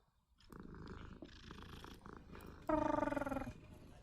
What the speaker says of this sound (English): Oh, kitty cat. We can pet the cat.